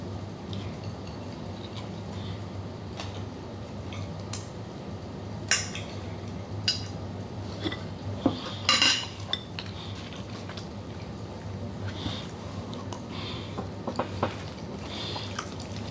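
Spoon or fork clinking now and then against a dish while someone slowly eats 35 grams of cream of rice topped with chocolate sauce, with sparse light taps over a steady low room hum and no talk.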